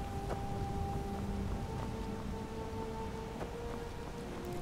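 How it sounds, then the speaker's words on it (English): Steady rain falls in the Skyrim countryside near a house, a constant soft hiss of drops at low volume with no talk over it. "sound of the rain can be heard"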